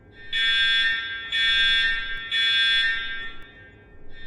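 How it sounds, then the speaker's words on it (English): A fire alarm blares in three loud, evenly spaced electronic buzzing bursts, each about a second long with short gaps, close and alone. "Oh no, the fire alarm has been pulled."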